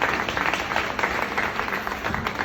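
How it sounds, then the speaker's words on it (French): Audience clapping at a graduation ceremony at a technical center, fairly close and steady with quick overlapping claps over a short stretch. "On applaudit, s'il vous plaît."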